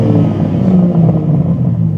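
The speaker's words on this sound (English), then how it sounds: "That will be a titanium exhaust system." A BMW M4 CSL G82 with a titanium exhaust system revs in a loud, deep rumbling burst that holds steady for a couple of seconds, close and dominant.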